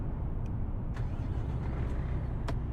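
A Volvo FH truck engine in Euro Truck Simulator 2 rumbles in a steady low idle after starting, with a few faint clicks on top, heard alone without speech.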